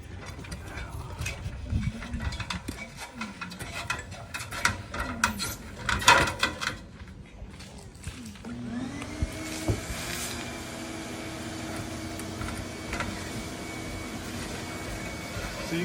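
A vacuum cleaning debris from gutter guards: first several seconds of clattering, knocking and scraping as it is handled, then a steady motor hum with a sustained whining tone.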